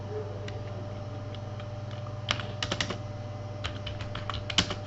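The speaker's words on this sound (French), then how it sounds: "Et j'écris ce que je veux avec une taille bien déterminée." Computer keyboard typing while entering text in InDesign: short bursts of quick clicking keystrokes over a steady low hum, with no voices.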